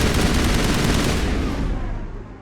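Loud, dense assault rifle fire in Mass Effect, a sustained burst of rapid shots that fades out toward the end with no talking.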